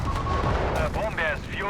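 Machine gun fire and explosions in the Company of Heroes 3 strategy game rattle in quick bursts, mixed with battle sounds under a caster's commentary.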